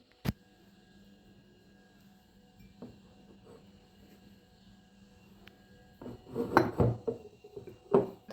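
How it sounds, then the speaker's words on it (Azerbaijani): Cheese being packed into glass jars, a sharp clink at the start, then quiet, and later a cluster of glassy knocks and clatters as pieces are pushed in, close and moderately loud over a low hum. "İndi pendirləri bankalara yığım."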